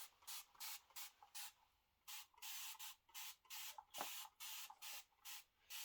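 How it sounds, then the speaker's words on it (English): A handheld spray bottle mists water in about a dozen quick, close hissing bursts with short gaps between them, heard alone in a quiet room. "If you don't have a spray bottle, you need to get one, because this makes it come out in a nice mist, and you get better coverage."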